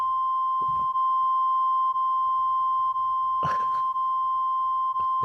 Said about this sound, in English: It better be beeped out there.